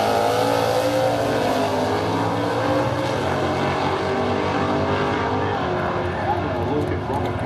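A Ford Utility drag race car's engine roars loud and sustained on a drag strip at a spring nationals meet, with a commentator talking over it throughout.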